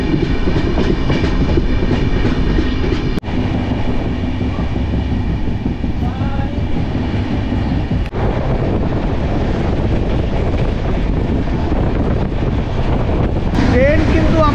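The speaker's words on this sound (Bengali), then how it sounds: "ট্রেন কিন্তু আমাদের বিশাল গতিতে ছুটছে" A train speeding along at high speed on a foggy day, a loud, steady rumble and rush of wheels on rails filling the whole stretch, with a couple of sharp knocks and faint voices underneath.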